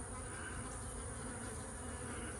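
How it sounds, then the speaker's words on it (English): A close swarm of honey bees from a nuc in a tree hums in a continuous, even drone, with no talking. "The bees ain't bad at all."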